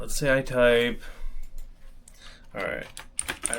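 Keys clatter in quick bursts as a prompt is typed on a computer keyboard for a chat interface, close and light, with a person talking over and between the keystrokes.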